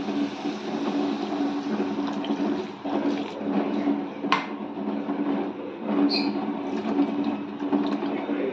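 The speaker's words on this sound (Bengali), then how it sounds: "এবার এটা আমরা দিয়ে দিচ্ছি পরিমাণ মতন জল" Water is poured into a pan of banana flower cooking with Gobindobhog rice, making a steady, continuous splashing and bubbling at moderate loudness.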